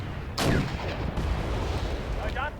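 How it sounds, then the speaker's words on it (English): Missile launches and explosive weapons fire in the Cold War strategy game Wargame: European Escalation, a sudden loud whooshing blast followed by sustained rumbling battle noise and further bursts, with no talk. "Got dude launching missiles."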